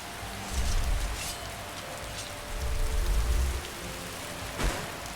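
Rain falls in the video game Skyrim, a soft steady patter with low rumbling swells that rise and fade, heard faintly with no talking.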